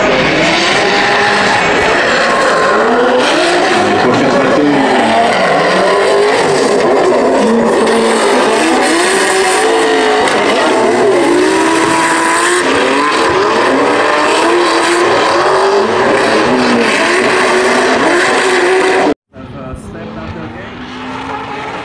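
Drift race cars at the FIA Motorsport Games 2022 roar continuously, engines wailing and revving up and down with loud, close bursts, before a brief cutoff and a quieter stretch of engine noise; a voice talks over part of it.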